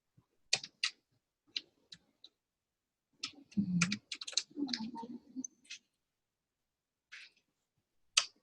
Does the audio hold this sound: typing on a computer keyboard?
yes